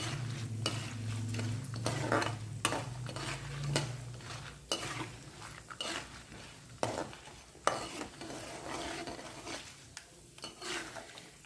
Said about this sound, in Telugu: వన్ అండ్ హాఫ్ స్పూన్ ఆవాలు బాగా వేయించుకోవాలండి